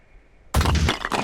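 A grenade explosion from the video game Phoenix Point bursts in suddenly after near silence, a loud booming blast with crackling debris lasting under a second.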